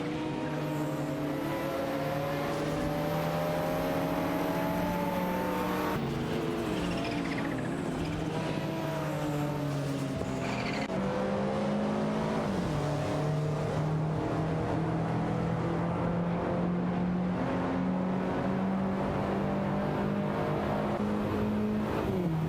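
Several race car engines drone and shift pitch steadily in an AI racing video game, a Lotus Esprit among the cars, with sustained overlapping engine tones rising and falling as cars jostle for position, continuous and moderately loud without any voices.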